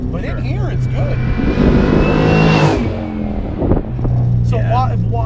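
A 575 hp LS3 V8 swapped into a Jaguar XJ8L revs and surges from inside the cabin, its engine note rising and falling under occasional talk.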